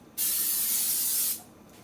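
Cooking spray hisses from a can onto a frying pan in one steady burst of just over a second, close and fairly loud, then cuts off into quiet.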